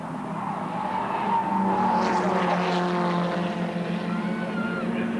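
Production touring cars race at Surfers Paradise in 1987 with worn tyres, their engines droning steadily as they pass at a distance, with a swell of tyre noise partway through.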